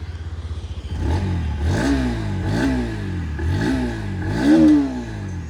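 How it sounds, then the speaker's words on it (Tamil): A 2025 Bajaj Pulsar NS160 motorcycle engine idles with a steady thrum, then revs in four sharp, rising-and-falling blips close by, the last one the loudest. "ஸோ அஸ் யூஷுவல் ட்ரெடிஷ்னலாக நம்ம பண்ணுறது எக்ஸாஸ்ட் நோட் செக்."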